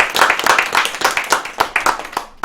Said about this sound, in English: That applause was actually for the game